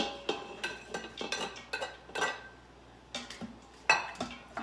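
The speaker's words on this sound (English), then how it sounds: "I'm gonna add the onions in." Onions going into an Instant Pot while making beef tips, a series of sharp clinks and scrapes of a metal utensil against the pot, irregular and close, separated by short quiet gaps.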